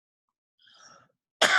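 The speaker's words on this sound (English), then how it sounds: "Excuse me, I'm sorry for the cough." A single sharp cough during a lecture bursts out near the end, loud and close, after a faint breathy rustle and near silence.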